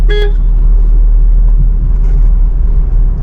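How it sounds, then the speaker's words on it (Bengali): A car horn gives one short, light toot at the very start. A loud, continuous engine and road rumble from inside a car driving through congested traffic follows. "হর্ন দিলাম এখানে হালকা করে"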